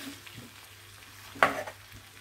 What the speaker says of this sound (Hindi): अब हम इस मसाले को अदरक और हल्दी में अच्छे से मिक्स कर लेंगे।